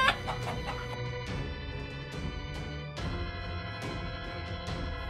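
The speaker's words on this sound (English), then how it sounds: "Phantom clucking sounds." Chickens cluck in a busy, close series of short repeated calls with sharp squawk-like bursts, a steady flock-like chatter throughout.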